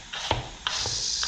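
Knife finely chopping an ingredient on a board for vegan creamy pasta, a few distinct close taps spaced unevenly over a scraping, hissy background.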